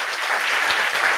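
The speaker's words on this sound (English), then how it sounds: "Let's give her a big round of applause." An audience applauds an author at an evening book talk, a brief, even burst of many hands clapping together at moderate volume.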